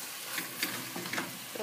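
Mushrooms and rice being stirred in a frying pan, with soft scraping strokes over a faint steady sizzle, close by and fairly quiet.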